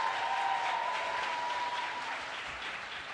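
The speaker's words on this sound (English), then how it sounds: "Can we please applaud Desmond as he walks off the stage?" An audience at a Vice President Harris economic opportunity tour event applauds as Desmond walks off stage, with steady, fairly distant clapping and a faint high tone early on.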